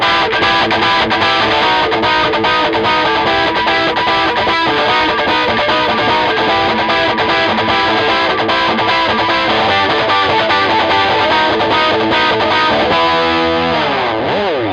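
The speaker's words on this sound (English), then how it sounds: "just a standard, nice crunchy crunch tone will work for it. And it will just sound like this." A crunchy, distorted electric guitar plays a fast, steady picked rhythm, loud and dense throughout, ending in a brief wavering, warbling passage; no voices.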